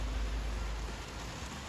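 Rain falls steadily into rubbish bins set out in a garden, a continuous dense hiss of drops with a low rumbling undertone, moderately quiet and unbroken throughout, no voices present.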